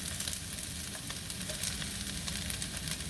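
Peppers and onions sizzle in hot coconut oil, a dense, even frying hiss with faint stirring, close and steady throughout and without talking.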